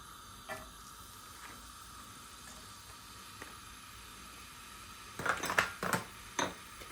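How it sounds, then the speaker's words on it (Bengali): Chopped onions and green chillies fry in oil for a red bean dish, a faint steady sizzle near the pan, followed by a few louder scraping stirs toward the end, with no voices. "পেঁয়াজটা আমি একটু ভেজে নিব 2 মিনিট"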